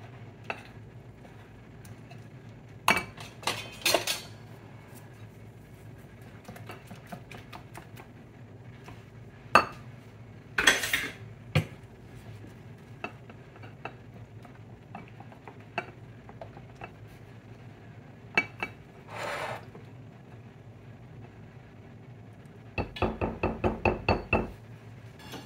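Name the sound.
mixing runny batter for coconut shrimp in a bowl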